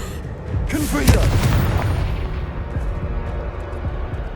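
A Confringo fire spell blast in Hogwarts Legacy, a single loud booming burst with a fiery crackle that swells and fades into a rumbling tail over a few seconds.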